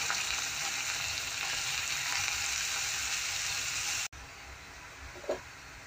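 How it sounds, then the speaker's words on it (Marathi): Spring onion greens sizzle in hot oil in a wok over a high flame: a loud, dense frying hiss that holds steady for about four seconds, then cuts off abruptly, leaving a quieter background with a brief clink. "तेल छान गरम झालं की त्याच्यामध्ये डायरेक्ट आपल्याला ही कांद्याची पात जी आहे फोडणीला टाकायची आहे"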